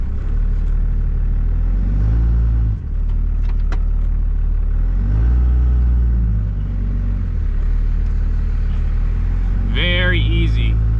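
Side-by-side utility vehicle engine rumbling low and steady as it is driven off a trailer without ramps, with a couple of revs rising and falling, and a person talking over it.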